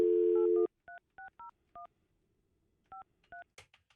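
A dial tone cuts off, then a string of short touch-tone beeps follows as a number is keyed, a quick cluster, a pause, and two more tones, close and clear.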